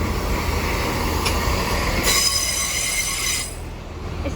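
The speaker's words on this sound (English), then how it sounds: "And arriving in now is the Great Western Railway Thames Turbo" Great Western Railway Class 166 Thames Turbo unit 166201 arriving at Cardiff Central, with rumbling wheels and brief high-pitched wheel squeals that peak and then fade as the train slows, close by.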